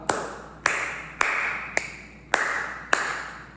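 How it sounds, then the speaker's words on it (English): Six slow, evenly spaced hand claps, sharp and close, each followed by a brief room echo, with nothing else audible. "clapping again."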